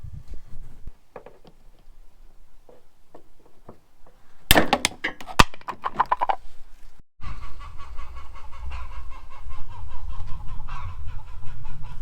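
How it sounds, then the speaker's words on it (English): Chickens cluck softly at first, then burst into a loud flurry of squawks before settling under a steady, noisy background hum. "These chickens are out of control today."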